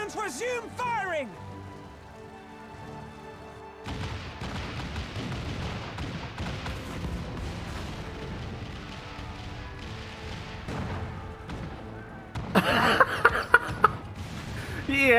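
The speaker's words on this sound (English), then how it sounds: "All cannons resume firing!" Cannon fire in a Final Fantasy XIV Stormblood battle: a rumbling barrage of booms and crackling blasts rolls on steadily, with a sharper cluster of hits near the end, after music and a voice at the start.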